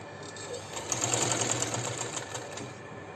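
A sewing machine stitches an elastic waistband with a quick, steady mechanical whir, fairly faint and close, running alone without talk.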